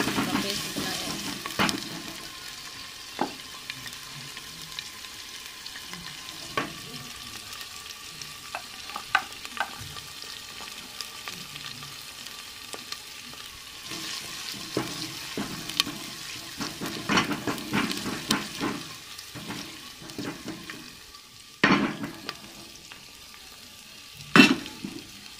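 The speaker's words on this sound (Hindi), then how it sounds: "इसमें अदरक लहसुन का पेस्ट डाल देंगे।" Ginger garlic paste and green chili fry in a pan while being stirred, giving a soft continuous sizzle broken by scattered scraping clicks and knocks of the spoon, close by and without speech.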